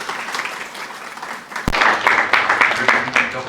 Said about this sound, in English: Let's clap for the Dr.